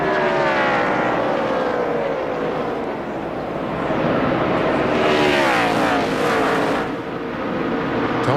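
Stock cars of the 2005 NASCAR Nextel Cup race at Fontana, California, roar through a restart, a loud continuous engine drone with rising and falling pitch sweeps as several cars pass close by.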